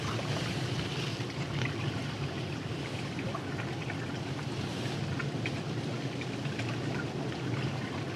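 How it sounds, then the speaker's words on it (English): Steady rain falling on the island of Oahu, near the Koaloa Mountains, a dense, even wash of drops that stays constant and fairly loud throughout with no voices. "I'm going to try to show you the rain"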